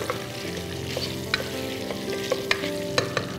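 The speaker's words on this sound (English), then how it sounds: "So now as you can see, our onions are getting brown." Rough-chopped onions browning in a pan sizzle steadily while a utensil stirs them, with sharp scraping clicks recurring every half second or so, close and alone.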